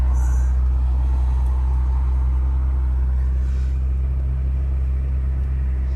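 A 2021 Ford Bronco engine runs after starting up, a steady, close, deep idling rumble that holds an even level throughout, with faint higher background noise above it.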